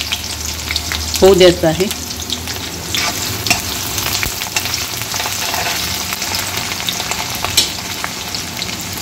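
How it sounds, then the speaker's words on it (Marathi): Onion fries in a pan with a steady, close sizzle and crackle, with a few stirring scrapes and a brief spoken phrase near the start. "याच्यामध्ये आता कांदा टाकून द्यायचा आहे. आणि कांद्याचा कच्चेपणा जातपर्यंत तो आपल्याला तळून घ्यायचा आहे"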